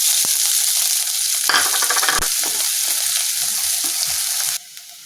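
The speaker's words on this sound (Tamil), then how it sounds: "இப்போ வெங்காயம் போட்டுக்கிறேன்." Onions tossed into hot oil already crackling with cinnamon, cloves and cardamom for a meal maker soya chunks gravy, a loud continuous sizzle with stirring scrapes and a spoon knock, then dropping abruptly quieter near the end.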